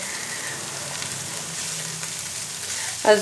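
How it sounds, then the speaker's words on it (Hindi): Capsicum and cabbage fry in a pan with a steady, moderate sizzle throughout, and a brief clink comes near the end. "अब सारी सब्जियों को भी फ्राई करेंगे"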